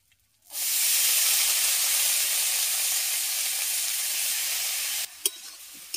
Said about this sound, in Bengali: হালকা করে ভেজে নেওয়ার পর কেটে রাখা লাউটা ধুয়ে আমি এর মধ্যে তুলে দিচ্ছি।